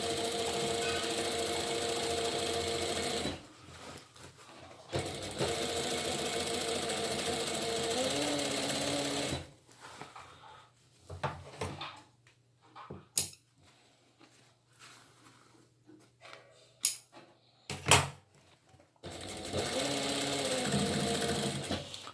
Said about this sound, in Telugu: దీని మీద డబల్ స్టిచ్ చేసేద్దాం.